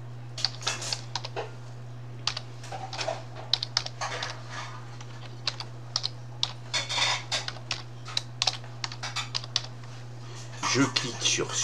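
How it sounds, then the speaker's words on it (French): Email address typed on a computer keyboard, quick irregular bursts of close key clicks over a steady low electrical hum, with a short louder clatter near the end. "je vais saisir l'adresse email"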